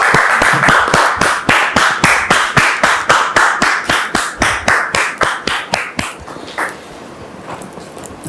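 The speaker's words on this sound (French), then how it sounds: "Merci de la recevoir sous vos applaudissements maintenant." Studio audience claps in quick, rhythmic unison to welcome a guest onto a French talk show, a loud steady beat that thins out and fades near the end.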